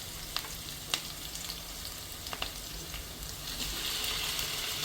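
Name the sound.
chicken frying in a pan with onions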